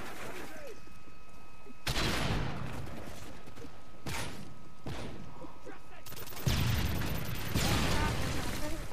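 Grenade blasts and rapid gunfire from a Call of Duty: Modern Warfare 3 multiplayer match, coming in loud broadband bursts with a heavier cluster near the end, and a voice talking underneath.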